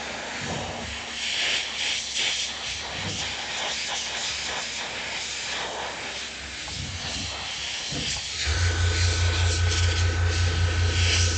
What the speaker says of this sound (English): I can use the airbrush to dry that off so I can then paint the blend